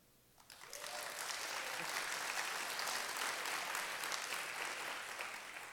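Conference audience breaks into applause after a short quiet lead-in, a dense steady wash of clapping from a large crowd that holds loud and even for several seconds, voting on a host city.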